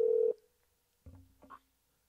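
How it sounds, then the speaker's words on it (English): A telephone call goes out, a single steady dialing tone followed after a pause by faint low ringback tones on the line, quiet and thin. "It is dialing. Or it's ringing."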